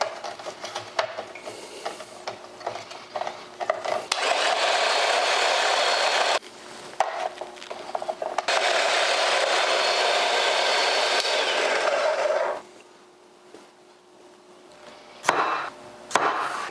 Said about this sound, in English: Again, using the flat slicer.